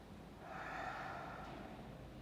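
A single long, deep breath during a yoga flow, drawn steadily for about two seconds and heard up close with no talking.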